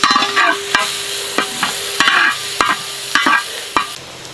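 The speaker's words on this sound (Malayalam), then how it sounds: "ഉപ്പിട്ട് ഉള്ളി വാട്ടി കൊടുക്കുക" Sliced onion with salt sautés in a pan for a traditional chicken curry, heard as a loud close sizzle with regular, rhythmic spoon strikes and scrapes against the pan.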